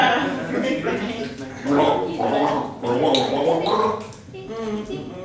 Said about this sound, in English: We're going to gargle with that.